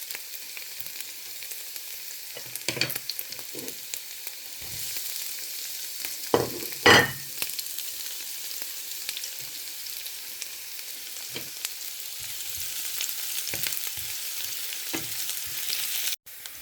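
Chopped garlic and onion fry in a hot pan, giving a steady close sizzle with occasional scrapes and knocks from stirring.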